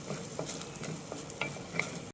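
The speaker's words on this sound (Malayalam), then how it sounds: "ഒരു സവാള അരിഞ്ഞത്, പൊടി അരിഞ്ഞത്, ഒരു 5-8 ചെറിയ ഉള്ളി അരിഞ്ഞത്, ഒന്ന് വഴറ്റിയെടുക്കാം." Chopped onions and shallots sautéing in a pan, a soft continuous sizzle with light scraping stir strokes and a few small clinks, faint and close.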